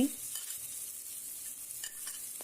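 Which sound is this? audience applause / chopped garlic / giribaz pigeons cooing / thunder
chopped garlic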